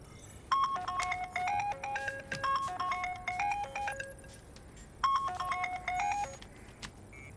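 A melodic phone ringtone plays a repeating electronic tune, pauses briefly, then starts again, clear and close with no talking.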